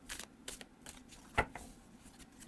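Tarot cards shuffled by hand with riffle and overhand shuffles, giving a series of brisk papery riffles and snaps at close range with one sharper slap partway through, and no talking.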